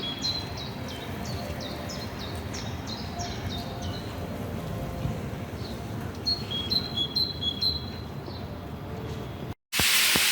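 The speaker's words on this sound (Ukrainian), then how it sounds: "як пташки співають" Small birds chirp and trill in repeated high, quick phrases, fairly close, over a steady low background hum, before a brief cut-off near the end.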